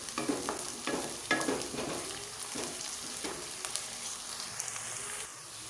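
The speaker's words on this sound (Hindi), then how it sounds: "लहसुन अदरक का पेस्ट शामिल करते हैं। इससे भी अच्छी तरह से भून लेते हैं।" Garlic ginger paste fries in a pan for a dal mash dish, a soft continuous sizzle with occasional scraping stirs, close and quiet, with no talk.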